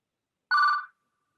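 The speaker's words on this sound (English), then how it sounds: "Can somebody please silence their phone?" A single short electronic ring from a phone at a township planning commission meeting, clear and close, cutting off quickly in an otherwise quiet room.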